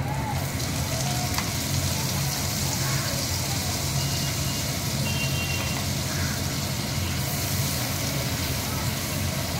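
Ground paste of onion, green chili and garam masala frying in hot oil for prawn malai curry: a loud, dense, continuous sizzle close up, with faint stirring and no talking.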